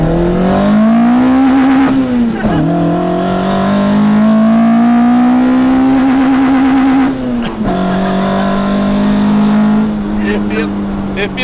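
A Toyota AE86 with a 4AG engine on individual throttle bodies and a long-tube header is being driven. Its loud, raspy engine note climbs steadily through the revs and dips briefly twice at the gear changes.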